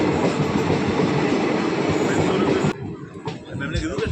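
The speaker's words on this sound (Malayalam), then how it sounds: "ആലപ്പുഴ റെയിൽവേ സ്റ്റേഷന് ലക്ഷ്യമാക്കി പോകുന്ന ഏറനാട് എക്സ്പ്രസ്" Ernad Express passenger train rumbles past Alappuzha, a loud sustained roar of wheels and carriages that cuts off abruptly as the last coach clears, leaving quieter ambient noise with brief clicks.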